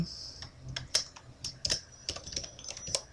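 Python code being typed on a computer keyboard: irregular bursts of crisp key clicks, some in quick clusters and some spaced apart, close and fairly loud, with no talking.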